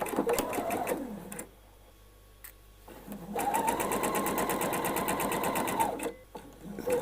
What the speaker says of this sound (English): let me go over here, over to my machine, pop that in there